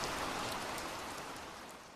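Steady rain falls in a soft, even hiss of drops on surfaces, faint and unbroken for the whole stretch, with no voices.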